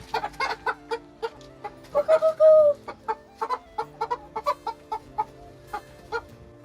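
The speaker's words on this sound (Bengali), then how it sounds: "আর এইদিকে দেখো মুরগাগুলা বড় একটা করে হয়েছে" Chickens on a poultry farm cluck in quick, close bursts, a rhythmic run of short clucks broken by one longer drawn-out squawk, with no talking.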